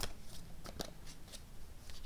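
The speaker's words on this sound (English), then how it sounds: "it means now that we need to stop shuffling" Cards are shuffled by hand in a quiet series of soft, quick riffling flutters and snaps, close but faint.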